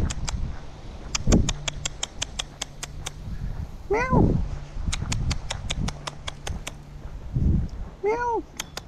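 A cat rolling on warm concrete outdoors meows twice, nearby, amid rapid regular clicking and scattered thuds, with a person talking softly between.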